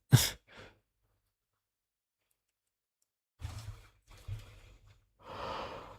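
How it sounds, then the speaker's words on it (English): A person yawns close by with a long, breathy exhale, followed by short breaths and a drawn-out sigh-like finish, with quiet gaps in between. "Why am I yawning already?"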